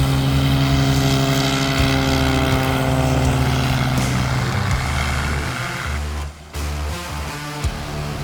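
Steady loud drone of a Bearhawk 5 airplane's propeller and engine running, a constant harmonic buzz close by that dips briefly near the end before resuming.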